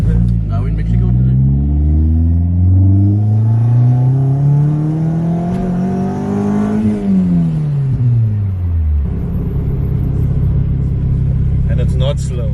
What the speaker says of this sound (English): bursting into wheel spin there for us a little bit